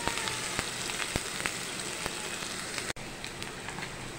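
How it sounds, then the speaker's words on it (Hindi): Onions frying in a pan with fenugreek seeds, a steady close sizzle and crackle with scattered sharp pops, continuous throughout with a brief dropout near the end. "बस थोड़ा प्याज को फ्राई कर लेते हैं"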